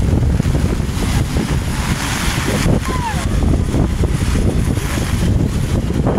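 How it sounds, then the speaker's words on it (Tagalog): Strong wind and rain during a water crossing, battering the microphone with a loud, continuous broadband roar that stays steady throughout with no pauses. "Sobrang lakas ng hangin. Yan, pati ulan."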